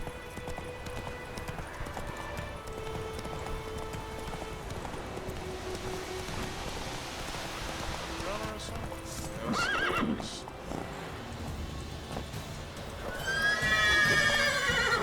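Roach, a horse in The Witcher 3, gallops with rhythmic clip-clopping hooves, and a sharp, high whinny rings out near the end over faint game ambience.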